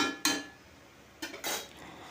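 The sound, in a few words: pumpkin curry being mixed with salt in a pot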